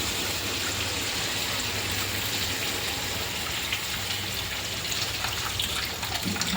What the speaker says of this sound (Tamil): ஃபஸ்ட்டு பயிர் தண்ணியை எல்லாத்தையுமே ஊற்றிடலாம்.